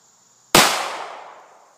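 A single sharp 9mm pistol shot fired with standard ball ammunition, a loud close crack with a long decaying tail, preceded by half a second of near silence.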